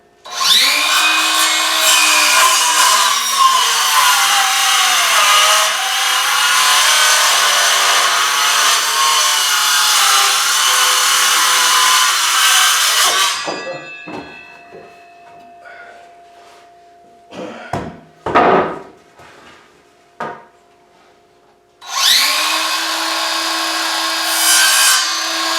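A power saw rips through wood for the wall framing and sheeting of a small bungalow wall panel, running loud and steady for a long stretch, then a few short knocks and cuts before the saw roars again.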